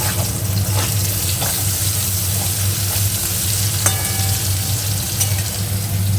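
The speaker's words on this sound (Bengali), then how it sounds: "এখানে হচ্ছে উচ্ছে ভাজা" Bitter gourd frying in a pan in a home kitchen, a steady loud hissing sizzle throughout with faint clinks, close by and without talk.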